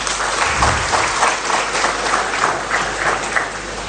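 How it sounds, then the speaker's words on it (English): Sustained applause fills a hall as an audience claps for a president's speech at a televised political address, dense and steady for several seconds with a loud burst near the start. "Although you applaud, my dear friends,"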